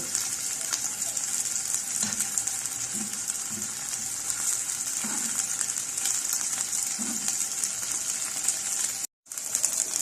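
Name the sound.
chicken frying in pan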